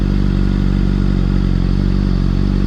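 A 2013 Honda CBR600RR sport bike engine runs at a loud, close, steady drone with a fast, even pulsing beat, with no voices.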